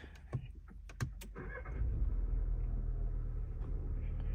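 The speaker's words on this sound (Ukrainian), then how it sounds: "Який звук двигуна" A 2024 VW Jetta Sport is started by push button: a few clicks and clunks, then the engine fires up and settles into a steady, low idle rumble close by.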